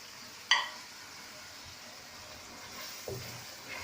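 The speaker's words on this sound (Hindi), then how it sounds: "1 मिनट के लिए मसाला भूनेंगे" Cumin, turmeric, salt and green chili frying in a pan for aloo gobi, a soft steady sizzle under a faint hiss, with a brief clink of a utensil near the start and light stirring later.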